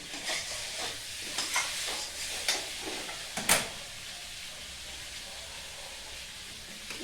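Fish curry of katla with potatoes and green chilies sautéing in a pan, a soft steady sizzle broken by a series of scraping stirs and one sharper clatter partway through, then a calmer simmering hiss.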